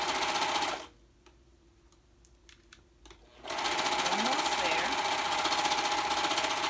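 A sewing machine stitches the side seams of a kids' raglan hoodie, its fast steady mechanical whir running loud before and after a quiet pause of a few seconds in the middle.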